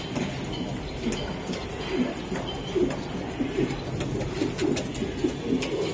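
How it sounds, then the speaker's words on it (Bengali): Racing pigeons coo repeatedly in soft, low, rhythmic bursts, with a steady hiss of background noise around them and no one talking. "ওটা কবুতর ভাই অনেক সুন্দর একটা কবুতর"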